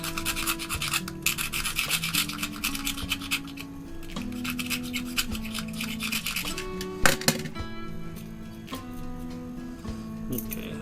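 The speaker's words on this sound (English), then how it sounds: "I'm actually going to see if I can get this loose paint." Loose, peeling paint is scraped off a fishing lure in short, repeated rasping strokes, close and fairly loud, with a humming tonal drone running underneath and no one talking.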